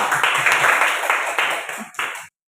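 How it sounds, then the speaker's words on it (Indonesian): A crowd claps together in a steady burst of applause that fades out after a couple of seconds. "tepuk tangan buat Erwin Sukarta."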